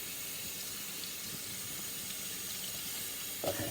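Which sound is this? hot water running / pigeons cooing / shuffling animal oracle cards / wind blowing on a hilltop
hot water running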